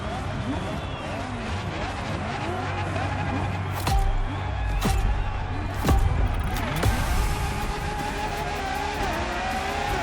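A Ferrari LaFerrari hybrid supercar from Maranello drives in the racing game The Crew Motorfest, its engine note rising and shifting with sharp transient bursts around the middle, heard beneath a narrator talking throughout.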